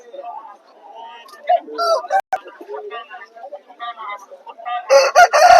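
Roosters crow and cluck at a busy Sunday rooster market in Vijayawada, a loud crow bursting out near the end over overlapping bird calls and the murmur of people talking.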